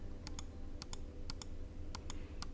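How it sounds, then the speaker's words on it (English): Computer mouse clicks come in quick pairs, about five double clicks spaced evenly, faint and close over a low background hum, with no one talking. "I'm gonna give you some mouse clicking sounds."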